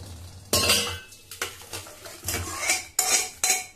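A metal utensil scrapes and clatters against a pan while cooked masoor dal is being stirred, coming in several separate bursts of clanking and scraping close by with short gaps between them.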